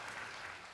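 Audience applause rising at a Hyundai Motor Group talk on self-driving cars, a dense wash of steady clapping filling the hall for the whole short stretch without a break.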